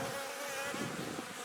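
Honeybees buzz around a swarm trap in a steady, dense drone that sounds close and continuous for a brief moment, with no voices.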